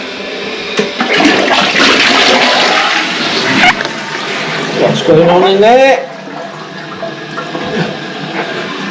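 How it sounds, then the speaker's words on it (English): A newly fitted back-to-wall toilet flushing, a loud rushing gush of water followed by gurgling and a rising refill hiss, close up, with someone talking over the flush. "I'm just going to fill it up, flush it, and we'll test it"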